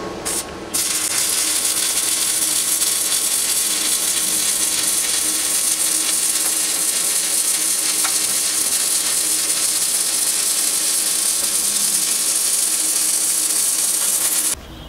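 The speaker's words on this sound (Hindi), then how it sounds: "इसके बाद हम अब वेल्डिंग प्रोसेस शुरू करेंगे।" Arc welding machine welding steel at home, a dense steady crackling hiss that holds nearly constant for over ten seconds after a brief start, close and loud, with no talking.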